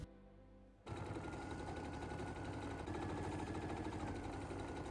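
Sewing machine stitching a dark dyed wool collar piece, starting abruptly after a brief quiet moment and then running steadily with a fast, even mechanical chatter up close.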